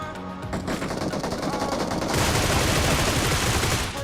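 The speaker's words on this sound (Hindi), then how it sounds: "फाइनली मेरे आगे से मुझे बंदूक की आवाज आ गई है।" Gunfire in the PUBG Mobile battle royale game, a dense stream of rapid automatic shots that swells louder midway and rattles on continuously for several seconds with no talk over it.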